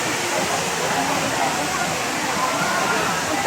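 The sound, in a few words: strong flowing water of a river or waterfall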